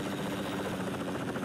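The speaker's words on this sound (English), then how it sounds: "you're gonna see the best helicopter landing you've ever seen" A video-game helicopter comes in to land with a steady, dense rotor and engine roar. The sound stays at an even level the whole time, faint overall and with no voices.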